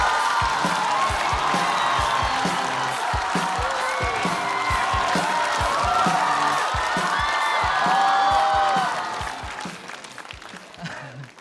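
A comedy show audience bursts into sustained applause with cheers and whoops as a stand-up comedian is welcomed to the stage, the dense clapping holding steady before tapering off near the end.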